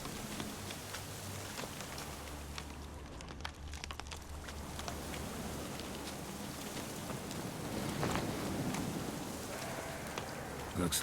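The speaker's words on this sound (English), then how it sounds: "Looks like rain." Rain falls steadily in The Witcher 3, a faint, continuous patter and hiss that thickens slightly near the end, with no voices over it.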